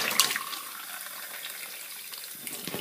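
Water runs from a tap as a steady, bright splashing hiss, set up for a water prank, with no voices over it.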